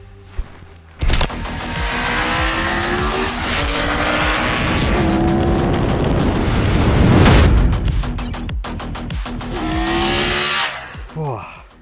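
A 2022 Triumph Tiger 1200 GT Pro motorcycle engine revs hard and loud, spooling up quickly with rising and falling pitch sweeps over roughly ten seconds, closely recorded with wind and road noise.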